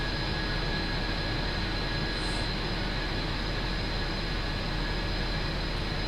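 A Union Pacific gas turbine locomotive in Train Simulator 2016 runs on Sherman Hill, giving a constant, loud jet-like roar with a steady high whine sustained unchanged throughout.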